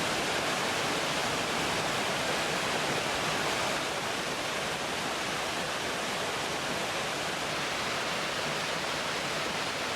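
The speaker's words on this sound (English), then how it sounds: "They say waterfalls produce negative ions," A waterfall at Dry River Campground in Crawford Notch, New Hampshire, pours as a steady, even rushing roar that fills the air without any break.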